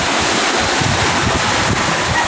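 Big storm-driven ocean waves roll against the Manila Bay seashore at Navotas, a loud, continuous broadband roar of surf mixed with gusting wind buffeting the microphone, with no voices.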